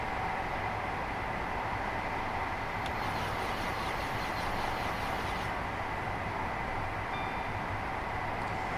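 A Class 43 HST train on the Midland Mainline coasts without power in Train Simulator, giving a steady, continuous rumble of wheels on rail with a constant broadband roar and no engine surges, unbroken for the whole stretch.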